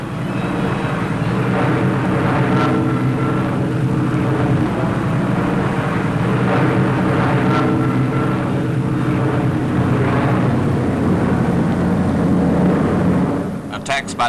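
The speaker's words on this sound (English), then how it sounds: "Bostons, among other types, flew in over the beaches to bomb the Germans and their communications further inland." Boston bombers flying over invasion beaches to bomb German positions inland during the 1944 Italian campaign, a loud, steady roar of aircraft engines droning continuously before cutting off near the end.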